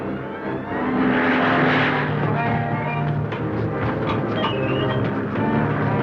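Airplane engine drone during flight in an old Hollywood movie, a loud, continuous rumbling hum with a brief whooshing swell near the start, heard alone without talk.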